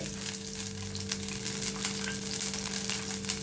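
Small sambar onions, garlic and ginger sizzle in hot oil, a steady close crackle and hiss with occasional stirring, no voices.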